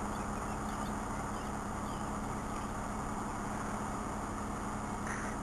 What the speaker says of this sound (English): I'm just gonna start it up and let it run for a quick minute and turn it back off